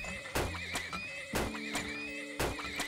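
Horses in the video game Turmoil neigh and whinny three times at a regular rhythm, each loud call ringing out over faint hoof clip-clops and a steady game-music drone, with no speech.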